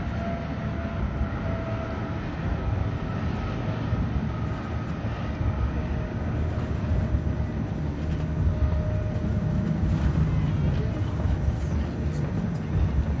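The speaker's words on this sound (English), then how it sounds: "the noise we hear overhead is the helicopter escorts flying around" Continuous heavy rumbling roar of escort helicopters overhead during a funeral procession in Accra, broad and steady throughout with no pauses, a loud droning wash of engine noise.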